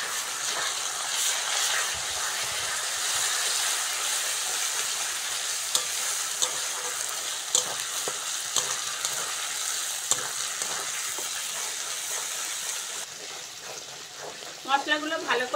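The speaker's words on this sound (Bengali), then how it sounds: "মশলাগুলো ভালো করে কষে নিয়েছি বন্ধুরা" Ground spices with ginger, cumin paste, salt, turmeric, chilli powder and tomato fry and get stirred in a pan, a continuous close sizzle with scattered spoon clicks and scrapes, ending in a few louder clatters.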